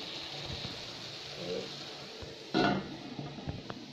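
A lid goes onto a pot of sautéing tomatoes over a low sizzling background, landing with one sharp metallic clank, followed by a couple of fainter taps.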